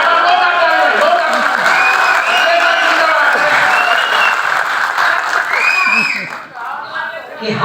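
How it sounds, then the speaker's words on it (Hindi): An audience at a company anniversary event applauds loudly and steadily, with some cheering and whoops mixed in, the clapping thinning out and fading near the end. "आप ताली बजाइए,"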